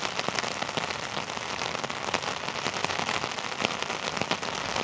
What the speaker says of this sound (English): Thanks for coming along on the wet and rainy walk around the city of Norwich